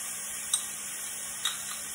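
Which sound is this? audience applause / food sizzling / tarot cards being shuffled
food sizzling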